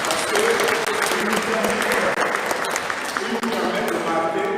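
A church congregation applauds during a Catholic Mass, a sustained, dense wash of clapping filling the space throughout, with a voice talking over it.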